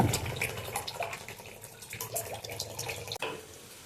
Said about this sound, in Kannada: ನೀರು ಹಾಕಿರೋಣ